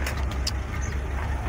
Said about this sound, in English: Truck's all warming up